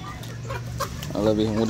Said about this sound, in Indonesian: Ini dia ayam-ayamnya